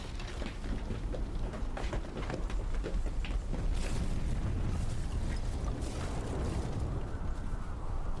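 Gas canisters explode in a horror-themed video game, producing a dense, continuous roar of blast and rumble that stays loud and steady throughout, with no voices over it.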